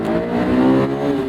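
A 2001 Honda S2000 AP1 engine accelerating, a loud close rising engine note held steadily for a moment with no voices over it.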